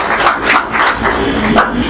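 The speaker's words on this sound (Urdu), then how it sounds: "بھرپور تالیوں میں استقبال کریں اکیڈمک ڈائریکٹر جناب فضل رحیم صاحب" Audience at an Independence Day event applauding to welcome the academic director, a continuous wash of many hands clapping, loud and close, with no voices over it.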